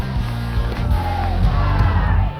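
A large crowd cheers and yells steadily at a 2005 women's college Ultimate frisbee national final between Stanford and UW, a dense continuous roar with whoops rising out of it.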